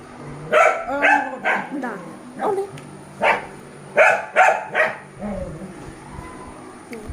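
A dog barks repeatedly in short bursts, close and loud, with uneven pauses between barks.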